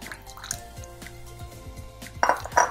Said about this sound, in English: Then go in with my oil.